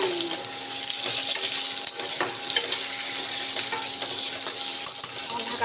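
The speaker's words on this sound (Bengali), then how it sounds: "কাঁচকলা আলু দিয়ে এখন ভাজবো একটু" Raw green banana and potato frying in a pan for a rohu fish curry, sizzling loudly and steadily at close range while a utensil stirs and clinks against the pan, with no one speaking.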